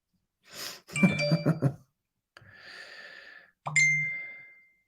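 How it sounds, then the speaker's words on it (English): A single bright phone notification ding for a Messenger text rings out near the end, clear and decaying, after a few louder scuffling and breathy sounds earlier on. "your text is only just coming through, Kiko, on my phone"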